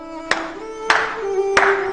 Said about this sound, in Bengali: আমি হাততালি দিচ্ছি।